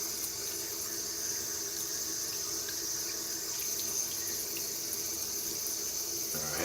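Water runs steadily from a sink tap while items are rinsed, a continuous close hiss and splash that holds evenly throughout.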